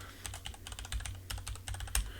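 Computer keyboard keys tapped in quick irregular bursts to move a player in the text-symbol dungeon game Rogue, close and crisp with brief pauses, no voices.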